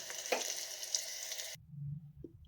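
Okra (bhindi) fries in a pan with a steady, close hissing sizzle that cuts off abruptly partway through, leaving a few low clinks and soft knocks of cookware.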